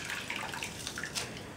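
Clean rinse water splashing and running steadily over a soapy sleeping bag being washed by hand, a close, continuous wash of water with small sloshing bursts.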